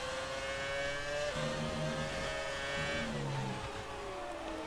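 Racing-car tyres rumbling over kerbs in the F1 2019 game, on a 2006 Renault F1 car at Brazil, a steady engine whine with gear shifts and low rumbling bursts running continuously at loud level.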